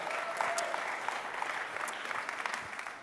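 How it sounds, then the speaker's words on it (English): A church audience claps together in a steady, even burst of applause that carries on throughout and fades slightly at the end. "Can we clap Shalise up for that?"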